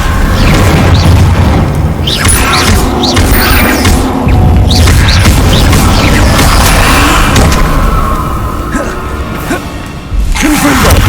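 Repeated booming spell blasts from a Harry Potter wizarding video game, dense and loud, with crashing impacts layered throughout under occasional shouted voices.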